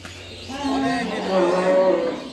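A cow on a cattle farm lets out a long, close moo that rises and wavers in two drawn-out swells, standing out clearly over quiet background.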